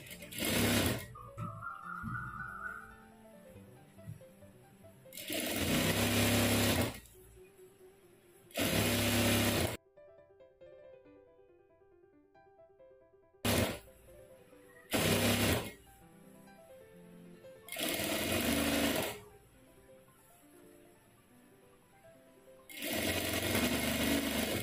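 Domestic sewing machine stitching the sleeve onto a princess-cut blouse, running in several loud bursts of a few seconds each, separated by quieter pauses with faint handling sounds and a brief near-silent gap.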